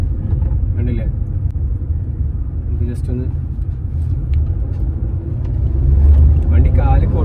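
A Nissan Magnite CVT automatic SUV in sport mode accelerates, its low engine and road rumble droning steadily and swelling near the end while someone talks over it inside the cabin.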